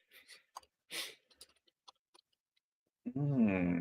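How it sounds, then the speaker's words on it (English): A muted sneeze bursts out near the end after scattered faint clicks and soft breaths, short and close, during a tabletop role-playing game session. "Nice muted sneeze"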